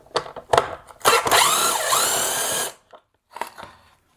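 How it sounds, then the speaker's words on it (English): Whirring power-tool bursts drive the 5/16 headlight adjusting bolt on a halogen headlight from a 2016-2018 Toyota Tacoma, with short spurts, then a sustained run of about a second and a half, then a brief final burst. "I'll turn the 5/16 headlight adjusting bolt all the way to the left"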